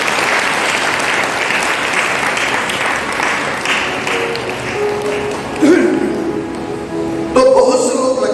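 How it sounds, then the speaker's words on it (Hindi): Loud, dense clapping from a church congregation fills the space steadily, with a few sharper bursts near the end and a voice speaking faintly underneath. "एक बार जोर से ताली बजाइए।"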